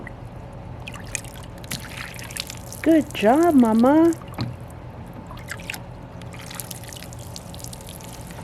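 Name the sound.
child pouring water from a container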